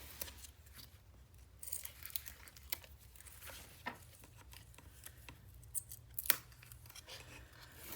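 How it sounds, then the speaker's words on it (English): Tape peels back from the edge of paper while building a 9 x 9 scrapbook mini album, giving faint, close crinkly tearing and scratchy rustles in short irregular bursts. "I am going to peel back the tape on this edge."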